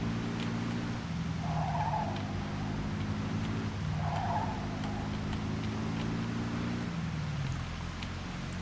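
A car in Mafia 2 running with a steady engine drone and two short bursts of tire squeal, fairly close and continuous with no voices.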